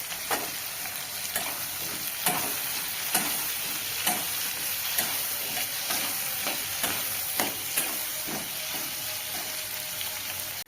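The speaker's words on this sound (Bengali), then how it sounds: "পেঁয়াজটা বেশি ভাজবো না, তাহলে চিলি চিকেনের টেস্টটাই নষ্ট হয়ে যাবে" Onions sizzling in a pan for a chilli chicken gravy, a steady hiss broken by regular sharp scrapes and clicks of stirring, close and fairly quiet, with no voices.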